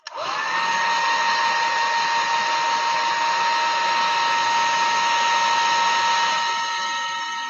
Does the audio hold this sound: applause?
no